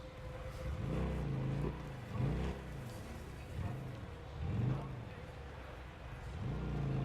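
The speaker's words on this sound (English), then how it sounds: "This is a more powerful bike than what I drove in the last build." An upgraded, more powerful motorcycle engine in the video game Days Gone revs and surges in repeated rising-falling swells, fairly close, with talk over it.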